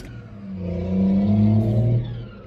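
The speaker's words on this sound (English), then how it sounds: "Loud car. I don't know if you could hear that, but it is." A loud car passes nearby, its engine hum swelling to a strong, steady drone in the middle and then fading away, with no talk over it.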